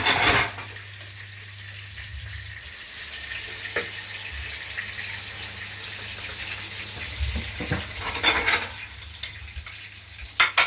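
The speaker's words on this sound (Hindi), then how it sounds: "इधर मैं अपने फटाफट बर्तन कर लेती हूँ।" Dishes washed by hand at a kitchen sink with running tap water, clinking and scrubbing in a steady wash while tomatoes fry on low heat nearby; no talking.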